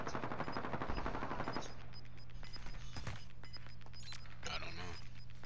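Gunfire rattles in the Warzone video game, rapid automatic bursts loud at first and then quieter sporadic shots trailing off, with game effects and faint voices mixed underneath.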